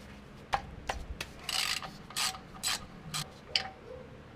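A hand ratchet tightens the rear differential cover bolts on a Silverado 2500HD, giving close bursts of rapid clicking in short strokes separated by brief pauses, with light metallic ticks in between.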